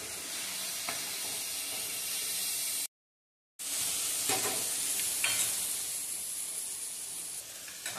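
Tomatoes softening in oil for daliya give a steady, close frying sizzle, broken by a short silent gap, then continuing with occasional faint stirring clinks.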